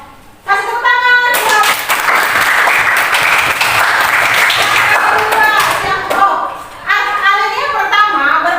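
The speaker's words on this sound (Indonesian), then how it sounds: "Kasih tepuk tangan." Audience applause at a university event in Surabaya bursts out loud and dense, holds steady for about five seconds, then fades as speech resumes; a voice talks briefly before it starts.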